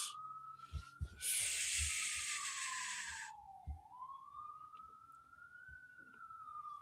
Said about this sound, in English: Do y'all hear the sirens?